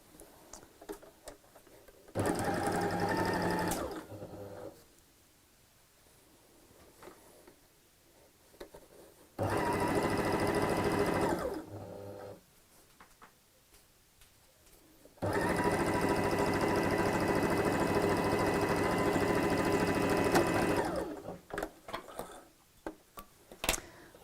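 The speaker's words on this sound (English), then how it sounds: "And then the final side is sewn together" A sewing machine sews the final side seam of a tote bag in three separate bursts, two short and one longer, each a steady rapid mechanical whir with quiet pauses between.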